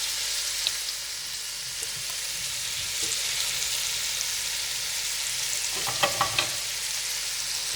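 Lobster sauce sautés in a pan over gentle heat for Armorican-style spiny lobster, a soft continuous sizzle that ends in a short cluster of stirring clicks.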